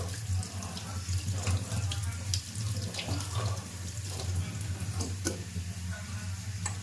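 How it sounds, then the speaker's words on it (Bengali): Cooked chowmein noodles are rinsed under a running cold kitchen tap. The water gushes steadily and close for the whole stretch, with light clicks and taps mixed in. "একটু ঠান্ডা জল দিয়ে ভালো করে ধুয়েও নিই।"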